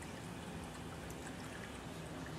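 Continuous rushing and trickling of water draining from an aquaponics tank through a bell siphon, a steady faint wash with no voices.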